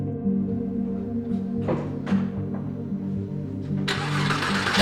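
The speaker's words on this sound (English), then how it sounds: "it has the sports exhaust from Porsche original, so makes really fun to hear it" A Porsche 996 Carrera 2 with the original Porsche sports exhaust runs close by, a steady mid-pitched flat-six idle with a few short blips of revving and a louder burst at the end.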